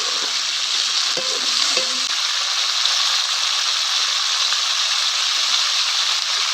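Chopped tomato goes into a hot frying pan for garlic kuzhambu, and a loud, steady sizzle hisses without a break from start to finish, with faint stirring underneath.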